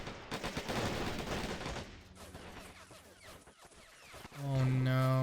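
Bursts of rapid gunfire from a Star Wars battle on Tatooine in the Men of War mod, dense crackling volleys at first that thin out, then a sustained tonal whine rises at the end.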